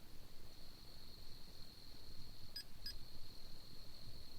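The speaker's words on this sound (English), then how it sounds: "The REM pod beeped twice" Two short electronic beeps in quick succession from a REM pod over a quiet background with a steady faint high-pitched tone.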